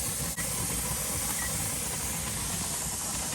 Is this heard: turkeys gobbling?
no